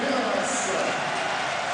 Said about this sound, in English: A warm applause all around the stadium for Kevin Miralas.